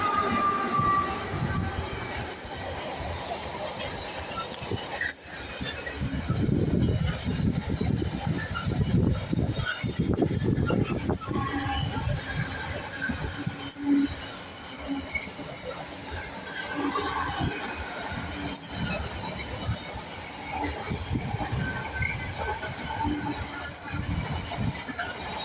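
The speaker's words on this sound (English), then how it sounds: "Double pairing of Freightliner 90s on a Freightliner service to Garston" A freight train hauled by a pair of Freightliner Class 90 electric locomotives rolls past a suburban London station. It makes a long, continuous rumble of wagons with rhythmic wheel clatter and occasional squeal, loudest in the middle stretch.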